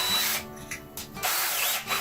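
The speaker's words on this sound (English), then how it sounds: "we're just going to simply drill 4 3/8 holes." A power drill whirs in several short, loud bursts, starting and stopping as it bores 3/8-inch holes for a van seat couch, close by with no talking.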